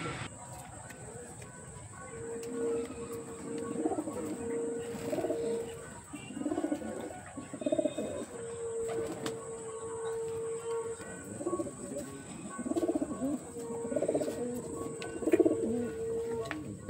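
Madrasi pigeons coo in a loft, soft rhythmic throaty calls repeating steadily throughout over a faint hiss of background noise.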